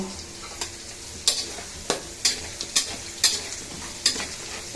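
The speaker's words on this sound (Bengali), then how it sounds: "এখন হচ্ছে আমি এটাকে সুন্দর করে ভাজে নিচ্ছি" Poultry chicken meat frying in a pan, a steady close sizzle broken by about eight sharp scraping stirs of a spatula at a loose, uneven rhythm, with no talking.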